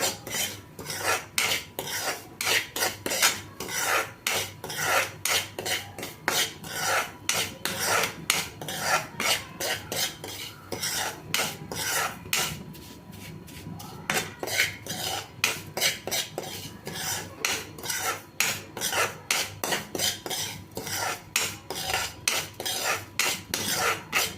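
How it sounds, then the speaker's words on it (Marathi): Semolina is being dry-roasted in a pan and stirred continuously, giving loud, dense scraping and rasping strokes in a fast, steady rhythm with a brief easing midway. Nobody speaks. "चांगला भाजून घ्यायचा आहे, थोडा खरपूसच भाजायचा आहे।"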